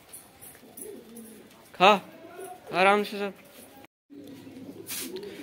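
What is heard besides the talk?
pigeons cooing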